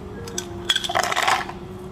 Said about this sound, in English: Add some ice cube.